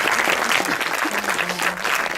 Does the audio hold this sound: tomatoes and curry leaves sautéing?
no